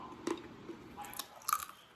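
Dried vegetable chips, beetroot among them, crunch between the teeth in a few close, crisp bites and chews, with short bursts separated by brief pauses.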